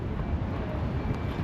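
Wind buffets a microphone outdoors in a town centre with a small street market, a steady close rumble and roar filling the low end throughout without a break.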